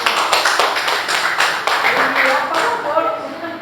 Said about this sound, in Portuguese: dar um aplauso ao Senhor Jesus